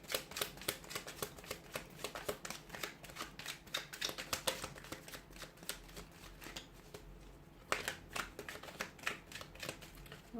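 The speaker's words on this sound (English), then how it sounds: "Let's give the cards a shuffle and see what messages they have for you here" Tarot cards being shuffled, quick papery riffles and soft taps in a steady irregular rhythm, close and quiet with no talk.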